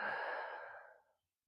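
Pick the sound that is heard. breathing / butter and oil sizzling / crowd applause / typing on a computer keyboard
breathing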